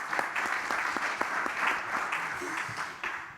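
Applause for a panelist at a conference session on generative artificial intelligence; a few seconds of steady audience clapping with some sharper individual claps.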